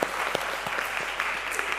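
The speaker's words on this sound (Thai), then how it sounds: "ให้เราปรบมือนะครับ" Crowd applause at a church service, a steady patter of many hands clapping continuously at moderate loudness.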